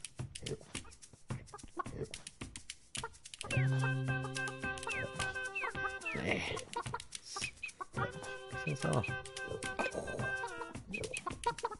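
Chickens cluck in repeated bursts, with a loud rooster-like call standing out, and a brief voice speaks among the birds.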